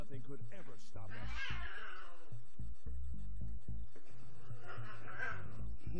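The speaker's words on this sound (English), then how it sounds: "Don't mind the cats fighting." Cats fight in the video game Ar Tonelico, giving off drawn-out, wavering yowls and snarls that rise and fall in two main bursts, with voices mixed in.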